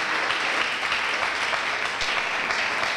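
A church congregation at a Sunday service applauds steadily, a dense continuous clapping that fills the room at even loudness without pause.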